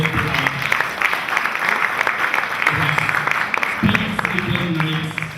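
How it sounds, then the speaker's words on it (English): An audience applauds the debaters at a debate challenge final, a dense, even round of clapping that carries on steadily with scattered voices mixed in. "Ladies and gentlemen, please can you give them another round of applause?"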